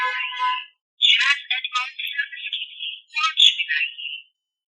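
Nokia X1 basic phone on loudspeaker dialing the 123 helpline of a Jazz SIM, giving a clear electronic tone pattern in several bursts, close and moderately loud, with nobody talking.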